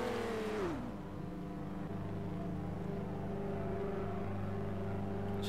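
In MTA multiplayer, a car engine drops from a higher rev to a steady low idle-like drone, moderately quiet and continuous.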